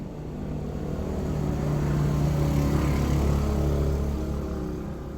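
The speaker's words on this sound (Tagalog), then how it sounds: "May motor na." A motorcycle passes by outside. Its engine drone swells from a distance, grows loudest in the middle, then fades away.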